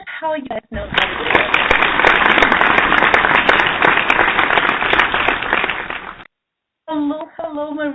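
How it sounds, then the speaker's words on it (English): A studio audience breaks into dense, loud applause that welcomes a guest and holds steady for about five seconds before it cuts off, with talk before and after. "Let's welcome with a warm applause from Tisha"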